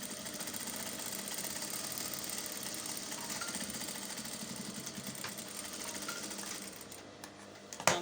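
A sewing machine stitches the side seams of a fabric wrap blouse, running in one continuous fast mechanical whir close up before slowing and stopping near the end.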